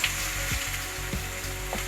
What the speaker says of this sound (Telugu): గుడ్లు పులుసులో మెయిన్ స్టెప్ అవుతుందండి ఈ ఆనియన్ ఫ్రై చేసుకోవడం.